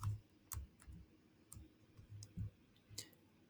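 Keys on a computer keyboard are tapped in short, irregular clicks, quiet and close, with no voice over them.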